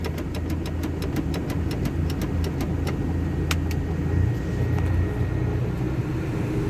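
A KamAZ truck engine runs steadily at idle, a low continuous rumble with a regular ticking pulse over it, heard close and alone with no talk.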